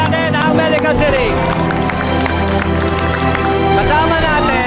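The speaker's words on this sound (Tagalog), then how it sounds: "Palakpak po natin ang Medical City." Audience applause for Medical City at an AMA Education System event: steady clapping and crowd noise mixed with loud music and cheering throughout, continuous and fairly close.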